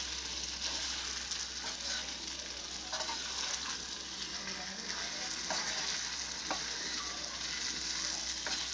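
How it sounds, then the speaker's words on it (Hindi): Banana curry sizzles and fries steadily in a pan, a continuous loud crackle with occasional stirring clicks, no voices over it. "5 मिनट तलने के बाद अब ये बिल्कुल तैयार हो गई"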